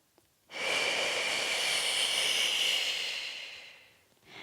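A single long, close exhale during a Pilates exercise, breathy and hissing, lasting about three seconds before fading, followed by the start of another breath.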